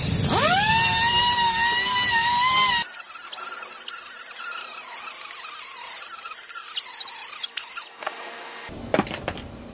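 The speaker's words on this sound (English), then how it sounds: "I'm going to use a little air sander here, a die grinder, and just a really quick hit." An air-powered die grinder sands a fiberglass mannequin, spinning up to a shrill high whine and then shifting pitch as it bites into the surface. The sound is close and loud, with brief dips and a final spin-down.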